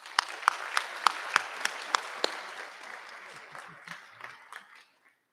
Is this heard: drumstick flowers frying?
no